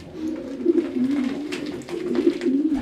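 Pigeons from the breeding loft, young birds of the 2019 season, coo steadily and close by in a low, rolling murmur that runs continuously with gentle swells.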